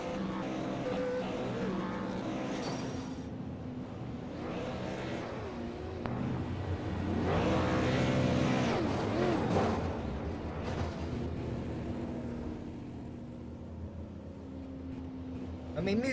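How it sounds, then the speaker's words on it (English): A race car does donuts at an ARC SLM series race, its engine revving and whining up and down over several swells across a steady roar, with voices talking over it. "we are going to see him do donuts, not burnouts, or burnouts of both, rather"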